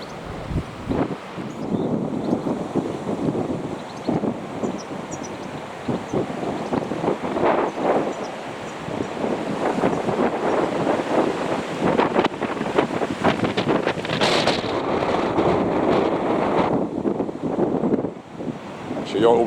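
Outdoors on a bitterly cold day, gusting wind buffets the microphone with low rumbling bursts that rise and fall throughout, close and fairly loud, while someone talks intermittently underneath.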